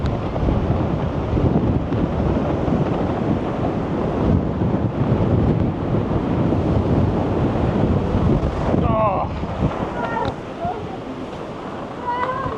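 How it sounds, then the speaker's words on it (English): Strong wind roars and buffets steadily against a window of a Scottish castle, loud and constant throughout, with a voice briefly heard near the end. "The wind is just ridiculous."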